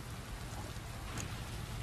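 A sudden out-of-season passing rain shower hisses steadily and densely, a close, even wash of falling rain with no voices.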